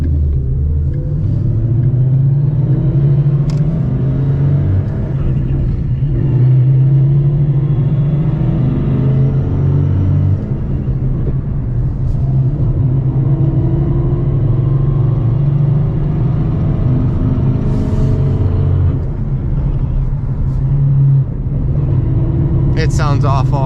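A car fitted with a Tremec Magnum XL manual transmission drives along with a loud, steady low engine rumble and road drone throughout, with occasional small clicks and knocks.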